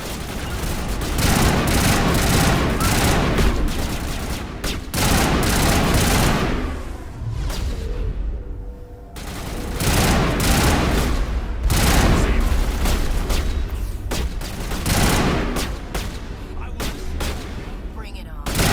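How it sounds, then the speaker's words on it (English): Rapid gunfire rattles through a Mass Effect 1 Remastered battle, loud bursts of shots and booms coming in waves with short lulls, voices and game sounds mixed in. "Open fire!"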